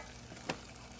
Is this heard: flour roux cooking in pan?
yes